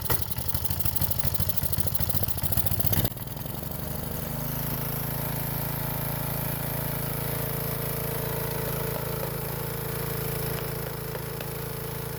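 A small gas engine runs with its filter removed, loud and revving for about three seconds before settling into a steady, even idle that drones on to the end.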